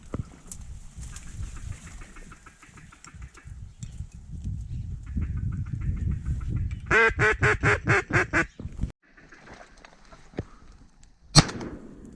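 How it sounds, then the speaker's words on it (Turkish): A wounded mallard on a small open pond during a duck hunt gives a rapid series of about eight loud, raspy quacks, preceded by low rumbling wind and movement noise and followed by quieter background, with a sharp snap near the end. "Arkadan dönüyor ördek geri."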